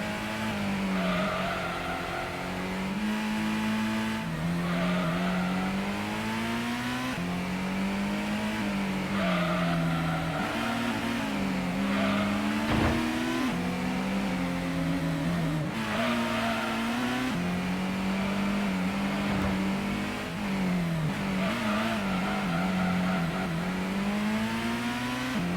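Race car engines from the PlayStation game Gran Turismo drone steadily and loudly throughout, their pitch rising and falling through gear changes with occasional tire squeal, during an endurance race. No one speaks.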